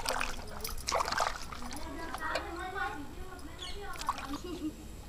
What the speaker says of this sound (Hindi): तो यहीं पे पानी है, तो पानी से हम धोकर साफ कर लेते हैं